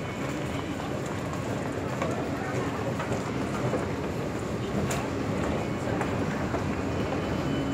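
Steady rumble of an airport rail link train in Bangkok running from Don Mueang airport toward the city center, a constant low roar and rattle from inside the carriage with occasional faint clicks.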